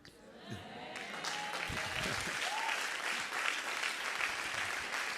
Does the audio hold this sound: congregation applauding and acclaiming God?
yes